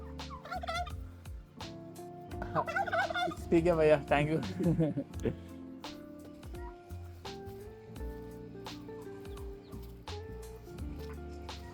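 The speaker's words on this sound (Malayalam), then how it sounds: "കൽക്ക കോഴിയാണ്." A turkey gobbles loudly in a rapid burst close by, among other fowl clucking nearby, while people talk briefly before and after, in a village in Arunachal.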